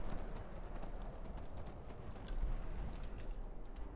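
Horse hooves clip-clopping in the video game Skyrim, a quiet steady patter of hoofbeats under faint game ambience with no talk.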